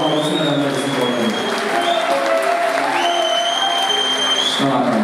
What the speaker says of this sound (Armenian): Եվս մեկ անգամ մեր շատ բարձր ծափարություններ են մեր զինվորներին